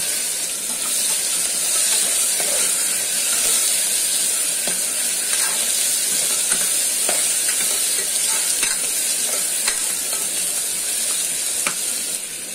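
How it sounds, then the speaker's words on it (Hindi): Tomatoes with red chili powder fry in a pan at home for a vegetable pulao, a steady moderate sizzle and hiss with occasional scraping stirs and small clicks throughout. "लाल मिर्च पाउडर इसमें डालेंगे इसको टमाटो को थोड़ा फ्राई कर लेंगे"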